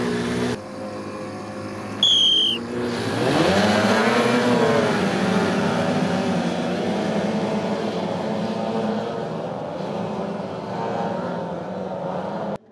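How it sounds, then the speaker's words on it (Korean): Racing motorboat engines in the OSY 400 and K450 classes at an international water sports competition whine loudly and close, pitch rising and falling as boats pass, with a brief high whistle near the start. "국제공인 OSY 400 모터보트 부문에선 체코의 마샬 하센 선수가, K450 모터보트 부문에선 이창규 선수"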